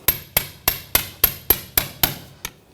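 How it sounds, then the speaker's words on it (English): A hammer taps a pry bar while working on the rear CV axle of a Nissan Rogue, eight crisp, evenly spaced metallic strikes followed by a softer final tap, close and loud with no speech. "I'm just going to use a pry bar and just give it a tap with a hammer."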